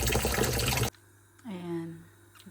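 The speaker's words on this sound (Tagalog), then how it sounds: "Yung bowl niya, lalagyan na ng kubos, lalagyan niya ng tubig, ng sabaw." Broth with olive oil poured into a bowl, a loud, dense splashing rush for about a second that stops abruptly, followed by a voice.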